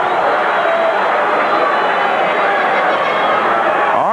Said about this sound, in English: a very loud capacity crowd on both sides